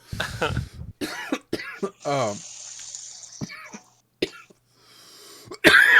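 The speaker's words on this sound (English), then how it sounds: "I'm coughing." Several sharp coughs and throat-clearing bursts close by, interspersed with brief talk and a running-water hiss in the background.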